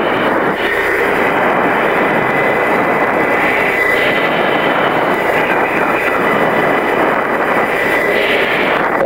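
A Navy F-14 fighter jet performs at an airshow, heard from inside the cockpit as a loud, continuous roar of jet engine and wind, steady for the whole stretch with no talking.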